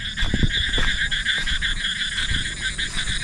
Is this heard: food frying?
no